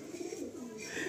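A pair of Madrasi pigeons gives soft, low cooing in a short burst, heard faint and close.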